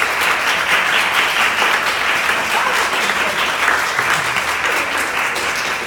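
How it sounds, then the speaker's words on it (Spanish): An audience at a Spanish-language business mentoring seminar gives a strong, sustained round of applause, a dense, steady wash of many hands clapping throughout with no pauses. "tienen un fuerte aplauso a ellos"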